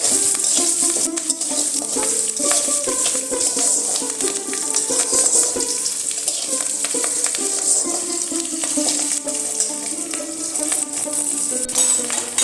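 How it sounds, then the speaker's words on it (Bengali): Lentils fry in hot oil with a dense, steady sizzle, while a spoon stirs and scrapes the pan now and then. The sound is loud and close throughout, with no voices. "ডালগুলো একটু লাল লাল করে ভেজে নিতে হবে"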